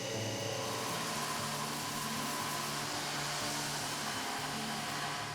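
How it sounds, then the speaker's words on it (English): A grinder works a steel knife blade during bulk stock removal before heat treating, giving a continuous loud, even whirring roar with no breaks, close up. "Once we're done, then we have to go to the grinder. We grind and we remove all the bulk before heat treat."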